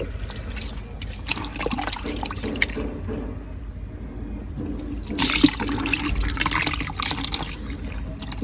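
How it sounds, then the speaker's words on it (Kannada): Spoiled fruit is squeezed by hand in a container of water, giving close sloshing, trickling and squelching splashes in irregular bursts, louder near the end. "ಹಾಳಾದಂಥ ಹಣ್ಣಿದ್ರೆ ಈ ರೀತಿ ನೀರಲ್ಲಿ ಚೆನ್ನಾಗಿ ಅದನ್ನು ಹೀಗೆ ಗಿವಿಚ್ಚಿ ಇಟ್ಕೋಬೇಕು"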